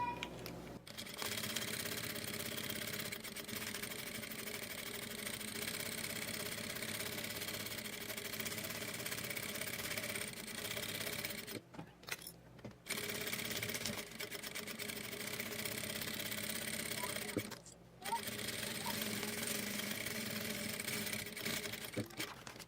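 A sewing machine stitches a seam on a plastic bag with a fast, steady mechanical whir, stopping briefly twice before running on, close and continuous.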